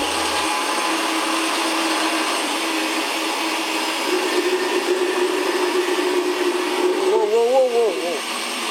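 An old blender runs continuously with loud motor whine and churning, its pitch wobbling near the end, while a voice or other noise sits faintly underneath.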